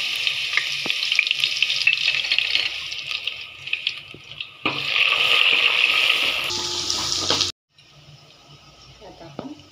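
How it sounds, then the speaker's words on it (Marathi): Cumin seeds and ginger-garlic paste frying in hot oil, a bright steady sizzle that surges louder as the paste goes in, then cuts off abruptly and returns fainter near the end. "तेल चांगलं गरम झालं, त्यात आपण थोडंसं जिरं घालूया, नंतर अद्रक लसूण पेस्ट करूया"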